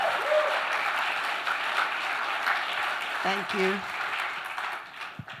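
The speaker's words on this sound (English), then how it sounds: "One more round of applause for them, please." Theater audience applauding film guests, the subject and director, after a screening Q&A; a broad, steady wash of clapping carries throughout while a voice speaks briefly over it.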